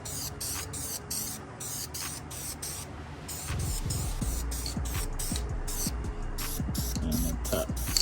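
Primer coat being spray painted onto a valve cover for a 5.3 LS engine swap, a steady continuous aerosol hiss running through the whole stretch, close and fairly loud, slightly fuller in the second half.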